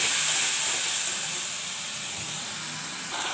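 Pieces of katla fish sizzle in a pan with tomato, turmeric, salt and a little water, giving off a loud, continuous hiss that eases slightly and then holds steady.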